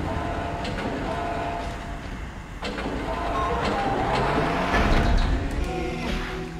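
A tram in the Dead Space video game rolls along its tracks with a steady mechanical rumble and rattle, rising slightly in loudness toward the end, with no talk over it.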